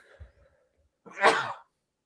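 A single sharp, explosive sneeze bursts out near the mic after a few faint low bumps, then quiet follows.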